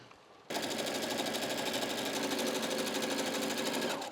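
Sewing machine stitching fabric, starting abruptly after a half-second of quiet and running as a steady, fast, close mechanical whirring chatter for about three and a half seconds before stopping.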